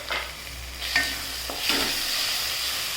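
Chopped tomato and green chilli sautéed in a pan for a restaurant-style veg Maratha kofta curry, giving a soft steady sizzle with a few scraping stirs of the spatula and no talk.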